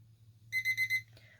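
A timer beeps four quick, evenly spaced times to signal it is done, clear and close over a low steady hum in a quiet room.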